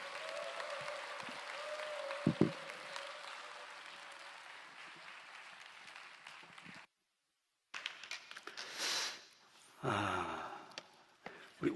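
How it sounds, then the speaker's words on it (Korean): A church congregation at a Friday evening worship gathering gives sustained applause to welcome a visiting pastor. The clapping is steady and fairly distant for several seconds, then a short silence, followed by scattered rustling and voices. "우리 다 같이 환영의 박수로 모시겠습니다"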